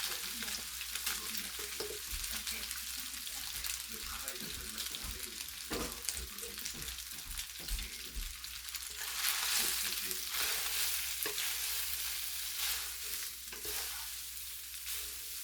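Noodles being stirred into palabok sauce in a frying pan, a steady sizzle with scraping and tossing strokes throughout, close and fairly loud, with no talk.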